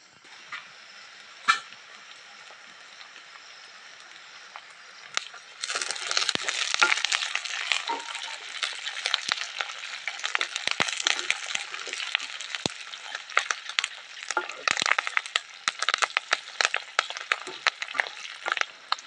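Drumstick leaves dropped into hot oil for a tamarind kuzhambu, a sudden loud crackling sizzle that keeps popping and spitting steadily for many seconds at close range.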